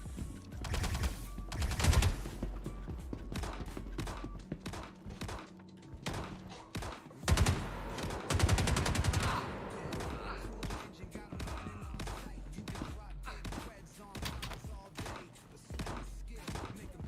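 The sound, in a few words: gunshots in a video game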